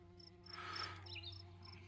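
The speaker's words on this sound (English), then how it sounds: "we have a whole lot of bees and some hornets" Buzzing of bees, hornets and wasps foraging on sea kale flowers, a close insect drone that swells and fades as one passes near, over faint steady background hum.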